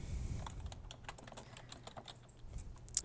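Rapid, quiet clicking of a computer keyboard as someone types text into a website article editor, with steady uneven keystrokes and no speech.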